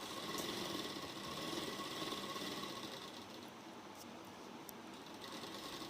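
A sewing machine stitches a salwar seam, a quiet, steady mechanical whirr running continuously without pause. No voices.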